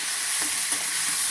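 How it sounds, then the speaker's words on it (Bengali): Snail curry masala stir-fried in a pan, a steady sizzling hiss with a couple of soft scraping stirs, brief and close. "ভালো করে নেড়ে নেড়ে কষিয়ে নেবো।"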